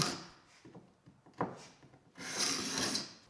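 Short scraping strokes rasp across glued-up wood panels, a few quick pulls followed by a longer, louder scrape near the end, close up and otherwise quiet.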